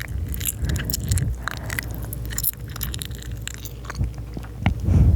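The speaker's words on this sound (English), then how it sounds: "I am guessing if you are watching this that you enjoy gum chewing" Gum chewing right up against the microphone for ASMR, with close, wet smacking and squishy mouth sounds repeating continuously and moderately loud throughout, no talking.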